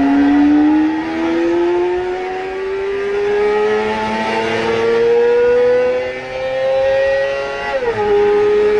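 A Honda 250 inline four-cylinder motorcycle engine with double overhead cams and four valves per cylinder screams as it revs toward very high rpm, its pitch climbing through the gears with a brief dip near the end, loud and close.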